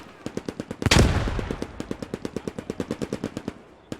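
Rapid carbine gunfire in a competitive online shooter match, a steady stream of sharp evenly spaced shots with one louder blast early on, loud and close with no talking.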